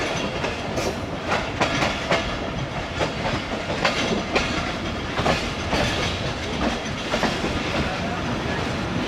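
The 12DN Hazara Express rolls along the rails between Bahawalpur and Nawabshah, heard from inside with close, loud rhythmic clickety-clack of the wheels over a constant rumble.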